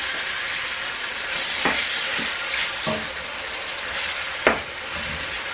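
A spoon scrapes and stirs a browning roux for shrimp gumbo in a pot, with a steady sizzle and a few sharp scrapes at irregular intervals, close and clear with no talk.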